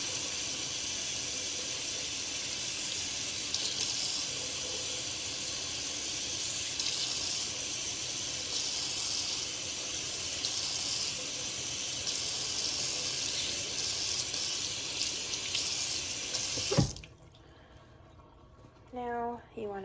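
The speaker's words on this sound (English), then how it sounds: "you can then run it under water" Kitchen tap water running steadily over a soapy knife in a sink, a constant hiss and splash that stops abruptly near the end, followed by quiet room sound and faint movement.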